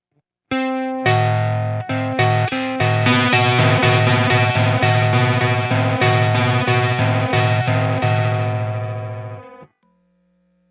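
Guitar played through a fuzz pedal, several notes together producing a warbling, ring-modulator-like interference; a loud, sustained distorted chord strummed repeatedly for about nine seconds, then cut off.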